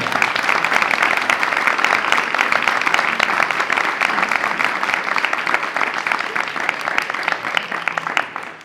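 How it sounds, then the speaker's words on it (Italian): A theatre audience at a World Theatre Day event applauds, a loud, dense, sustained wash of clapping hands that holds steady throughout. "Un applauso, grazie."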